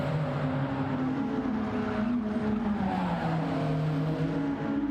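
A four-cylinder Alfa Romeo race car at Trial Mountain Circuit in a racing video game, engine droning steadily with shifting pitch and a squeal of tires, loud and close with no talk.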